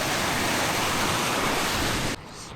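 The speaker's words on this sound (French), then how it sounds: "Là, l'eau, elle s'agite un peu." Churning stream water near Minoh Falls in Japan, a loud, dense, steady rush of broadband water noise close by that drops off abruptly near the end.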